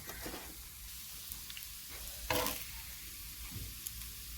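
Masala dosa topped with potato bhaji crisping on a hot pan, a steady soft sizzle with a few brief scraping stirs and a louder burst midway, fairly quiet and close with no talking.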